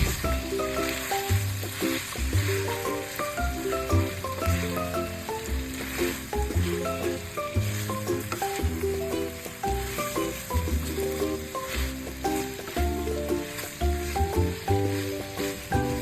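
Onions sizzle steadily in hot oil with pork belly adobo while being stirred, a constant crackling fry with repeated scraping stirs, no talking.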